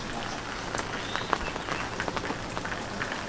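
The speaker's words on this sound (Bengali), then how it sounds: "দেখুন বাইরে কত বৃষ্টি হচ্ছে" Steady rain falling outside a home during a heavy shower, a dense continuous patter of drops on surfaces with scattered sharper splashes, close and even, no voices.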